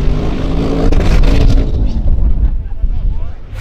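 An Audi RS6 driven hard with a full load of passengers gives a loud, continuous roar of engine and road rumble with rushing wind that eases off toward the end, heard from inside the car.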